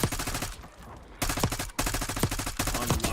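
Rapid bursts of gunfire from an enemy player in a video game, several clustered volleys of loud, close shots separated by brief lulls, with no talking.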